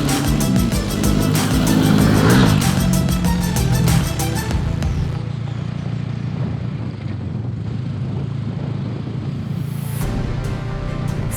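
A Bajaj Dominar motorcycle engine revs hard at high rpm with the clutch slightly slipping on a rough Himalayan road in Nepal, loud and steady with a strong harmonic drone that eases after a few seconds.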